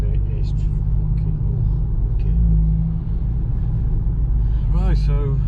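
A stage 2 Volkswagen Golf GTI with a DSG gearbox holds a deep, steady engine rumble throughout, with a voice speaking briefly near the end.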